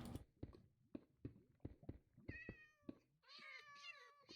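Cats meowing in the Minecraft video game: a run of sharp clicking taps comes first, followed by clear, close meows that rise in pitch and stack into several overlapping calls toward the end.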